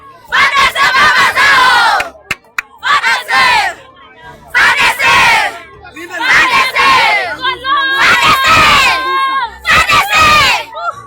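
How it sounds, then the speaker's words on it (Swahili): A large crowd of residents sings and cheers as a national army commander arrives in Sange, loud rhythmic bursts of group chanting and war-cry shouts separated by brief pauses, close and powerful. "wananchi wanazidi kuimba na kushangilia wa jeshi la taifa"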